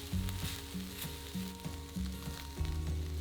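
Garlic, tomato puree and dried oregano cooking in a pan for a tomato tuna pasta bake, a steady close sizzle with a low rhythmic hum running through it and no talk.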